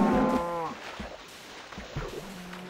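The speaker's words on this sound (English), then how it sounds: "Here's a cow." A cow in Minecraft lets out a loud, close moo with a falling pitch, followed by softer low grunting sounds.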